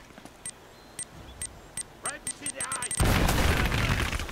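In Uncharted: Drake's Fortune, scattered gunshot pops and clicks build up, then a loud explosion bursts in and rumbles through the final second, with a voice talking over the action.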